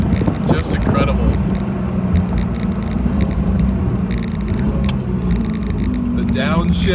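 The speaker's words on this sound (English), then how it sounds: "Downshifts, so smooth and crisp with the PDK system." A Porsche 918 Spyder engine revs and rumbles loudly and continuously, with quick shifts in pitch as its PDK gearbox downshifts, heard close up from inside the open car.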